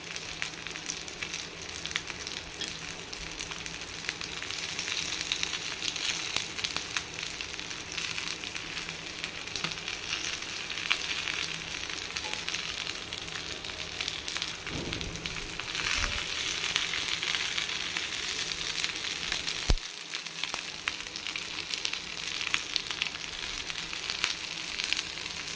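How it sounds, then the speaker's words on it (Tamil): Sheela fish cutlets frying in hot oil, giving a steady, dense sizzle and crackle that runs the whole time, with a few soft knocks from a pan or utensil partway through. "சீலா மீன் கட்லெட் நல்லா அழகாக எண்ணெயில் போட்டு பொரித்து எடுத்தாச்சு"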